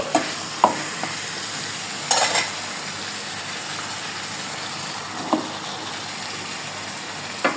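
Chili powder being stirred into a frying curry makes a continuous close sizzle, broken by several sharp scrapes and clinks of a spoon against the pan.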